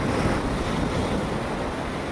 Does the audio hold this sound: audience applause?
no